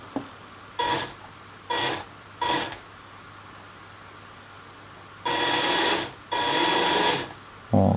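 A 1/16 scale RC jeep's electric motor whirs in short throttle bursts: three brief blips, then two longer sustained runs and a final start, close and fairly loud with quiet pauses between.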